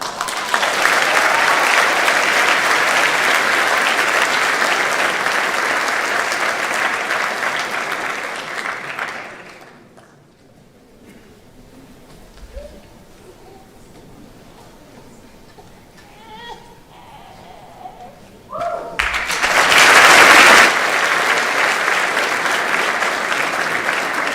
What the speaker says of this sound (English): Here's some round of applause for getting there.